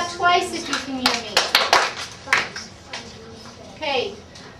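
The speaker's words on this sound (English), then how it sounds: "Clap twice if you can hear me." Second-grade children in a math class clap in short bursts, several quick sharp hand claps close by, mixed with children's voices and chatter between them.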